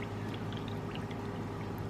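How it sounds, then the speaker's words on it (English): Water is poured into cornstarch to mix a slurry for sweet and sour soy curls, a steady soft trickling pour lasting the whole moment, fairly faint and without speech. "So we're going to take some more cornstarch and mix it with a little bit of water."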